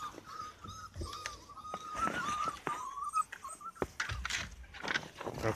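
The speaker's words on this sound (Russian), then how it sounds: "Ты почему лаешь? Скулит он." A dog whines and whimpers in thin, rising cries, mixed with short yelps and panting, at a night feeding where puppies and an adult male dog are present; the sounds come close and moderately loud.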